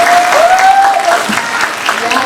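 Audience applause fills a live talk event for the film 1987 with an actress, a steady, dense patter of clapping under a brief whistle-like tone and some voices.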